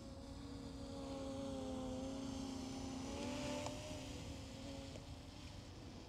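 Ruko F11 Pro 2 camera drone hovering in place outdoors, giving a steady, fairly faint propeller whine with layered tonal hum that holds level throughout, no voices.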